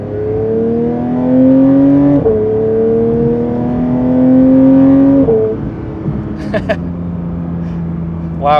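A Porsche 992 GT3 engine revs repeatedly while parked, rising in pitch across two long sweeps before dropping back to idle, loud and close, with brief clicks and talk near the end.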